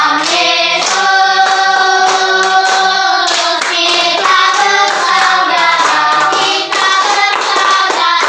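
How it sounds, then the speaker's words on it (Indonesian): Third-grade primary school children in a classroom clap their hands in a steady beat along with loud group singing, the sharp claps repeating evenly throughout. "Tepuk tangannya"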